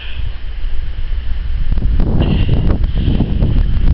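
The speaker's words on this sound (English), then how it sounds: "It is already quite breezy" Strong gusting wind buffeting the microphone outdoors in Southampton during blizzard conditions with high winds, a rough roaring rush that builds and stays loud with no voices.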